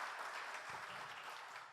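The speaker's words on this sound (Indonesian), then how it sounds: "Beri tepuk tangan luar biasa untuk Tuhan kita." Congregation clapping at a church worship service, a dense steady wash of applause filling the room throughout, with no voices standing out.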